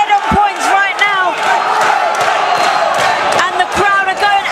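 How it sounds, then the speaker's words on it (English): Boxing crowd at a live fight roaring and whooping in the final round, loud and sustained with shouted cries and a few thumps, and a commentator's voice running through it. "the crowd are going absolutely wild"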